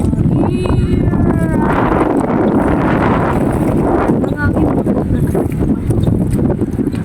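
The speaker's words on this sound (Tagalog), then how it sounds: "Hangin dito." Steady, loud wind buffeting the microphone throughout, with a voice talking over the rumble.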